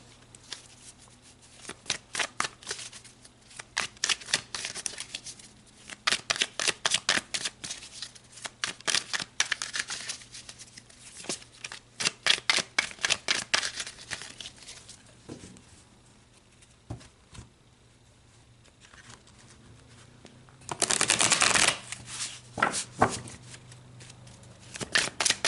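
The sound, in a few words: shuffling tarot cards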